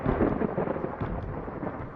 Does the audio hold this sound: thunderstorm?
yes